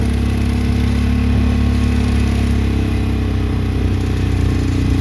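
A small engine on a mini go kart roars steadily at full throttle, bogging down in soft sand, loud and close with a constant droning hum and no break in pitch.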